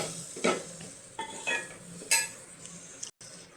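A spoon scrapes and clinks against a pan as okra (lady finger) gravy is stirred, a few distinct strokes with light sizzling underneath, close by, and nobody talking.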